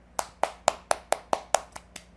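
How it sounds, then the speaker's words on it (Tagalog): Eight or nine crisp single hand claps land in a steady, evenly spaced rhythm, close and fairly quiet, with nothing else sounding. "Ganda rin yung palakpak ko"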